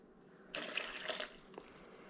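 Water is poured into a bowl sitting on a kitchen scale for pizza dough, a short, quiet splashing pour lasting under a second, followed by a faint clink.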